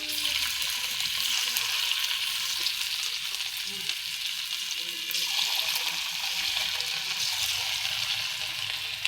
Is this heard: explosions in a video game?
no